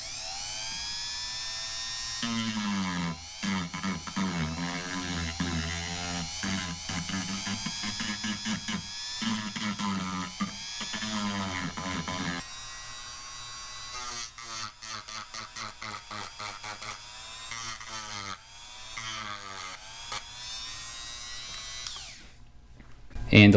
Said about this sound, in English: I'm just going to use a sander bit and then also sort of round over those edges there a little bit